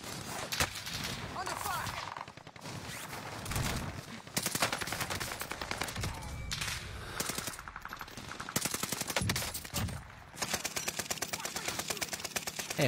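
Rapid automatic gunfire from a long-range weapon in the online shooter Warzone, with dense bursts of shots rattling almost nonstop, loud and close, while a player's voice can be heard faintly under the shooting.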